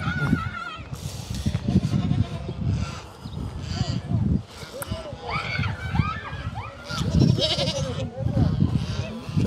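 Goats bleating at a livestock farm in the United States that sells animals for Qurbani, with overlapping calls over constant noise and people talking.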